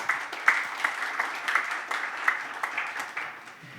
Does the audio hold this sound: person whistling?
no